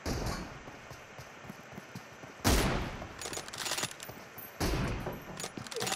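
Gunfire in a competitive video game shooter match: two loud bursts of rapid shots separated by quieter stretches of distant, scattered firing, with no talking.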